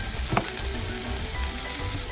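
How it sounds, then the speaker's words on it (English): Fenugreek leaves being stirred into sautéing chopped vegetables and sprouts in a pan, a dense, close sizzle with a brief scrape of the spoon early on, no voices. "Now add the methi and give it a good stir."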